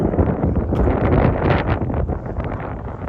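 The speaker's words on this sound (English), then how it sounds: "It's a little windy out here." Strong gusts buffet the microphone outdoors beside a 4x4 Sprinter van, with a continuous low roaring rumble, steady and loud throughout.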